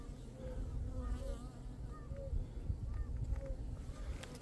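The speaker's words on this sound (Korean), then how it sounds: "요놈이 동양중 꿀벌이에요" Eastern honeybees, also called Asian honeybees, hum in a steady dense drone at their hive, with individual buzzing passes drifting over a constant low murmur and outdoor background.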